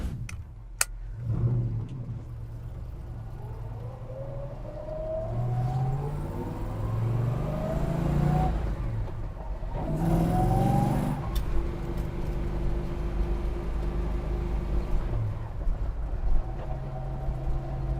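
A 1967 Chevelle SS 396 with a Tremec gearbox drives along rough San Diego roads, its V8 rumbling from inside the cabin and rising in pitch through repeated revving accelerations and shifts, loud and continuous.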